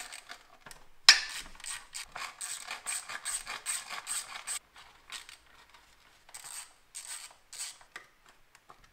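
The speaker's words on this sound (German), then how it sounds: "Das sind auch alles kleine 10er Schrauben, die man hier lösen muss." A ratchet loosens small 10 mm bolts in the engine bay of a Mazda MX5 NA during cylinder head removal, producing close, rapid ratcheting clicks in several bursts separated by short pauses.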